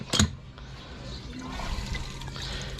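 Water is poured into a container holding azolla mixed with bio feed, giving a soft, steady gurgling rush after a brief knock at the start.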